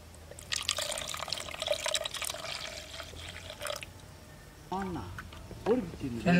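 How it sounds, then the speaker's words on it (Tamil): Plain water being poured into spiced pani puri water, a steady splashing pour up close that stops abruptly, followed by voices talking. "கூடவே பச்சை தண்ணி கொஞ்சம் சேர்த்துக்கலாம்."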